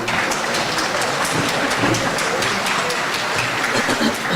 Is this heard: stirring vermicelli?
no